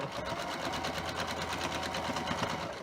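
A sewing machine stitches quilt fabric for a star quilt block in a steady, continuous rapid whir with an even mechanical pulse, close and loud, with no voices.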